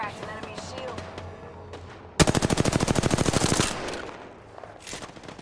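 Video game gunfire bursts out as a fast automatic volley of sharp, evenly spaced shots lasting over a second, loud and close, with quieter game sounds and voices before and after.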